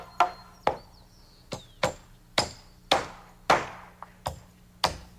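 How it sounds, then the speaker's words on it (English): Hammer driving nails to fasten a rafter to a ceiling joist during house framing, giving about ten sharp ringing blows at a steady, slightly uneven pace, close and clear with no talking. "nails his end to a ceiling joist and the same on the other side"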